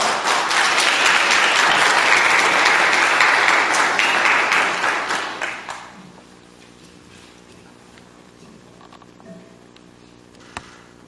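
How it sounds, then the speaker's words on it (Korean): Congregation at a church revival meeting applauds loudly and steadily for a visiting pastor, the clapping fading out after about six seconds into quiet room tone with a faint tap near the end. "우리 나오실 때 박수로 환영하시면서"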